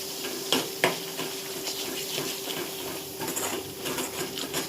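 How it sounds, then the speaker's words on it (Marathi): Steady oily sizzle with soft crackling runs throughout, punctuated by a couple of sharp clinks near the start as food is stirred in the pan with coriander. "आता तेल सुटस्तवर परतून घ्यायचं."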